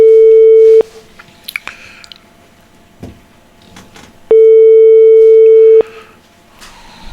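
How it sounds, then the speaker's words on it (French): Two long electronic telephone rings sound on a radio call-in show line, each a steady loud tone about a second long, separated by a few seconds of faint rustling and small noises. "Deuxième sonnerie."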